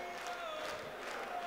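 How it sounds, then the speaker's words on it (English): Darts crowd in Hildesheim at the German Darts Championship cheering and chattering steadily throughout, a broad sustained roar of voices from a large audience on their feet. "And the crowd on their feet for this one, starting to find their voices as the night wears on here in Hildesheim."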